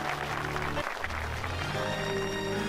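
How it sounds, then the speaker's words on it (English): Dense clapping from many hands in the visual novel Muv-Luv Photonflowers, a continuous burst of applause lasting a few seconds over faint background music. "The amount of clapping, I thought it was like the entire fucking class."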